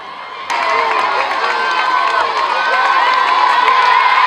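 A large crowd cheers and shouts at a school bench-donation ceremony at Institut Ngiri Ngiri, swelling suddenly after a brief quieter moment and holding loud and sustained, with many high voices mixed in.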